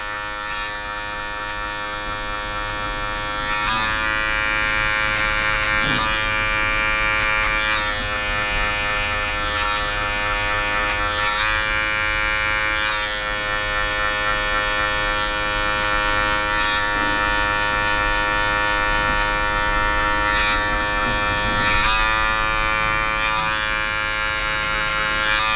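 Electric hair clippers hum loudly and continuously up close, working clipper over comb on a skin fade, the buzzing pitch dipping and rising again and again as the blade moves through hair.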